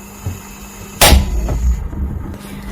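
A cooking stove is lit, giving one sharp, loud ignition pop followed by a low, steady whoosh of burning that carries on to the end, with no talking.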